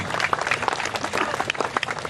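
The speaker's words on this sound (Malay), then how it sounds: "Kasih tepukan yang meriah untuk Kota Batam" A hall audience gives lively applause for the Kota Batam team at a pantun exchange competition, brisk dense clapping filling the short stretch at close range.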